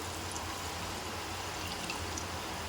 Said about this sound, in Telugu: వాటర్ వేసేస్తున్నాను